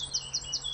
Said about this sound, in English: I'm being put off here by the birds singing in the background.